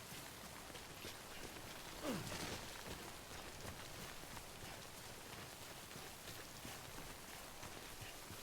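Timefall rain from the video game Death Stranding pours as a steady, even hiss of drops striking surfaces, constant throughout with one brief louder swell near the start.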